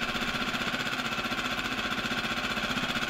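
A Parsun 6 hp outboard motor with a reworked carburetor runs steadily at raised revs, its fast, even, chugging pulse close and loud throughout with no talking.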